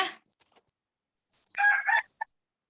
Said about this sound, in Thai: นี่คือคำตอบเป็นเสียงไก่นะคะ